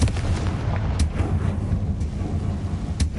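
Fiery Confringo spell blasts in the Hogwarts Legacy video game on PS5, a loud rumbling barrage with sharp bursts near one and three seconds over continuous low booming.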